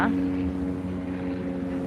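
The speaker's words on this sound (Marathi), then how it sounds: "हेलिकॉप्टर उडतंय दिसते का बघा" A helicopter flies overhead, a continuous droning rotor and engine hum with steady tonal whine, heard outdoors with voices faintly present.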